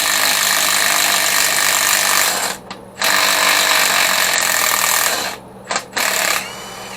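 Power tool loosening rusted intake manifold bolts on a 302 engine, a loud steady broadband whir running nearly continuously with two brief pauses between bursts.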